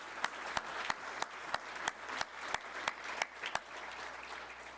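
Conference audience applauding at an economic event, a steady wash of many hands with sharper individual claps punctuating it at a fairly regular pace, moderately distant and continuous throughout.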